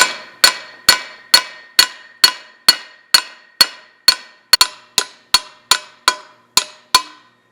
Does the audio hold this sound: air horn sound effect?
no